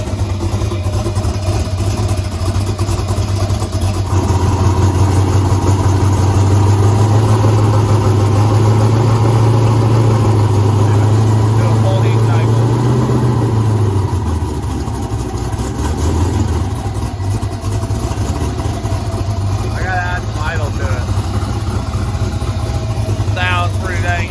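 A race car engine idles loud and steady up close, a deep low rumble holding through most of the stretch before easing off, with voices talking over it.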